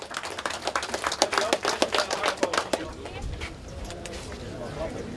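An audience at the X-Tractor 2010 finale claps for a few seconds, a lively burst that thins out and then fades, with voices talking over it.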